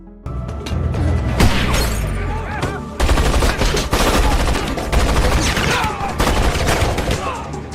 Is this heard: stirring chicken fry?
no